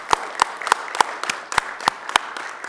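A handful of sparse, evenly spaced claps ring out at a Temecula city council meeting, roughly ten sharp strikes in a steady rhythm from a few people close by, with no voices.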